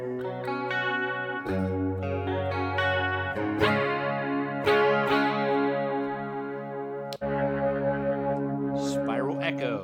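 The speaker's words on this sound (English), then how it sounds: "Vibrato King." An electric guitar plays through the Vibrato King effect of a guitar app, sounding as distorted, wavering sustained notes and chords with a thick, warbling tone. The playing is loud and continuous, with a brief break near the end.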